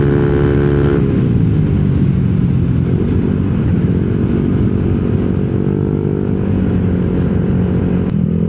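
Yamaha Nmax scooter fitted with a TSMP CVT set revving loudly and steadily nearby, its engine note rising in pitch during the first second and then holding a strong, continuous drone with mechanical clatter.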